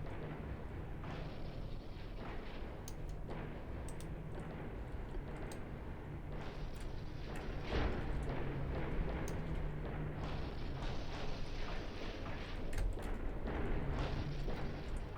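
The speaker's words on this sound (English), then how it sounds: "That sound of those cruisers." Cruiser guns boom again and again in a naval battle game, heavy rumbling blasts layered over a constant dense roar of gunfire that swells louder partway through.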